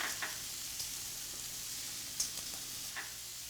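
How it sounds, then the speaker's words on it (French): Shallots and garlic sizzle softly in olive oil in a pan, a faint steady hiss with a few light stirring knocks, no voices. "on verse l'huile d'olive dans une casserole, puis on ajoute les échalotes et l'ail et on mélange bien"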